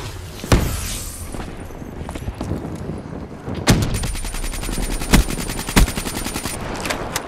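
Gunfire from a weapon in a shooter video game, with scattered heavy single shots early on, then a rapid stream of automatic fire punctuated by louder bangs, close and loud.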